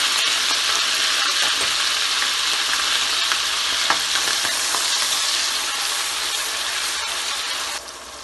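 Onions fry in a pan with garlic, ginger and garam masala for qeema aloo, a strong, steady sizzle with occasional stirring scrapes that softens slightly near the end.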